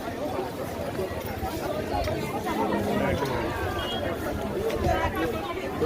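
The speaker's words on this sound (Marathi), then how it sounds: "थोडी गर्दी आहेच." A crowd of pilgrims fills a Tuljapur temple on a busy Saturday, dense chatter and overlapping voices forming a steady, close hubbub throughout, with no single speaker standing out.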